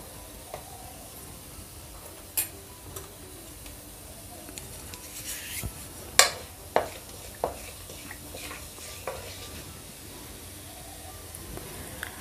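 Cumin seeds sizzle in hot oil in a kadhai with a soft, steady hiss, broken by sharp crackles and pops.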